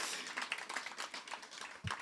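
A small audience gives a round of applause for a rapper at a public rap event. The clapping is faint and scattered, with a handful of quiet, uneven claps that sound fairly distant.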